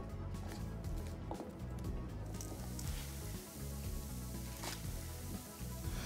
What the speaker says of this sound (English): Saute the turnip until it's just nice and seared.